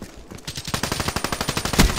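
Weevil gun firing in Call of Duty Black Ops 3, a rapid, loud burst of evenly spaced shots that carries on without a break for nearly two seconds.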